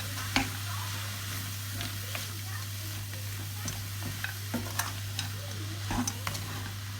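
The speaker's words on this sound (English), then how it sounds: "I'm just going to add some oregano and give that a stir around." Oregano being stirred into a vegetarian lasagne sauce in a pan, heard as soft sizzling with intermittent sharp ticks and scrapes of the spoon over a steady low hum.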